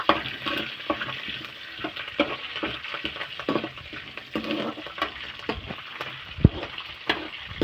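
Dried red chillies frying in a pan, a close, busy sizzle with frequent stirring scrapes and one sharp knock of a utensil against the pan, no voices.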